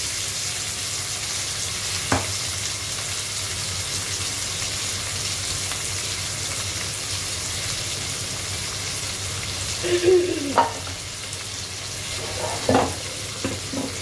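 Chopped tomato and ginger fry in hot oil in a pan with a constant dense sizzle, broken by a few sharp scrapes and stirring clatters toward the end.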